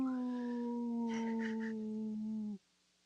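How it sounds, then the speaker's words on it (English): A wolf pup gives a single sustained, steady howl with clear harmonics, close and fairly loud, holding for about two and a half seconds before cutting off into quiet. "That was a baby pup."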